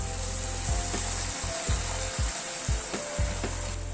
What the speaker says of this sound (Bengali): এবার একটু গরম জল দিয়ে দিচ্ছি।